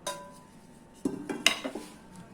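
Roasted whole spices for homemade curry masala powder are tipped from a metal pan onto a plate, giving a few light metallic clinks and a short scrape with a soft rattle, quiet and close.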